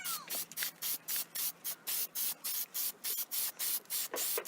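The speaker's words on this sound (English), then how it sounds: "So now I am going to be spray painting the other side of the branch" Aerosol spray paint coats a tree branch for an Easter egg tree in short, regular hissing bursts, about a dozen evenly spaced sprays close by with brief pauses between them.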